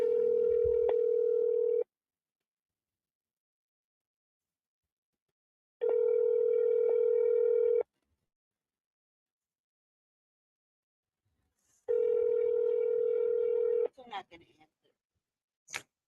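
Three repeated bursts of a phone call ringback tone, each about two seconds long with roughly four-second silent gaps between them, clear and steady, followed by a few faint clicks and handling noises at the end.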